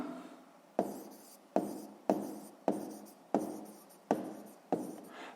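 A pen writes on paper during a sixth-grade maths exercise, a quiet, close scratching broken into about seven short strokes, each starting with a sharp tap and trailing off, with no voices.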